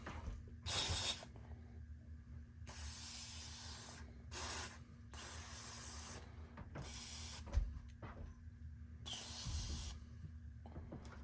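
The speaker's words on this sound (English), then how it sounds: "spray it all down." Several sharp hissing bursts from a spray bottle of cleaner onto a Springfield Prodigy DS 4.25 pistol, spaced out over a steady background hum, fairly close.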